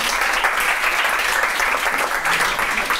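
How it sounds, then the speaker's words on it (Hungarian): Audience applause welcoming a guest to a Hungarian book talk on emotion regulation and trauma healing: continuous, even clapping from a seated crowd, sustained at a steady level throughout with no talking on top. "Mugyorósi Révész Zsuzsa, neki szeretnék kérni egy tapsot"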